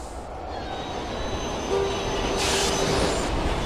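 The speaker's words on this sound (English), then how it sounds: "a train comes barreling towards her" A train barrels along the tracks toward a closed station at night in the horror game Twilight Syndrome, a steady loud rumble with a sustained squeal building midway.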